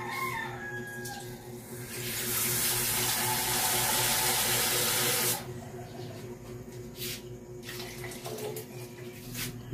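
Tap water pours steadily into a cooking pot, a loud broadband gush lasting a few seconds before cutting off, with a rooster crowing in the background before and after.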